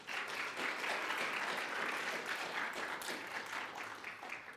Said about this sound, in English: could we please have another round of applause for Anton?